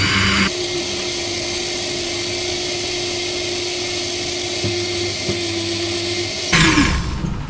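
A blender blending rolled oats runs at a loud, steady whir for several seconds, its motor droning evenly before cutting off abruptly near the end.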